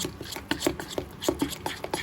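Mung lentil batter with chopped chilli, kasuri methi and oil being beaten briskly in a bowl, a rapid, rhythmic series of wet slaps and taps, close and fairly loud with no talking.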